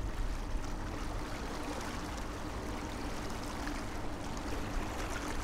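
Minn Kota Terrova Quest trolling motor on a 24-volt battery pushing a boat at around 6 km/h, a low, steady wash of water and quiet motor hum that stays even and faint throughout.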